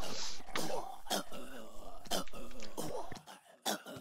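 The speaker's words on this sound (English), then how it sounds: "I'm sorry if I'm coughing in your face." A person coughs and clears their throat in a series of harsh, raspy bursts, close and loud, mixed with strained vocal sounds during a Minecraft play session.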